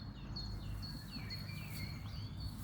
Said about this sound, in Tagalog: Pakinggan niyo yung ibon.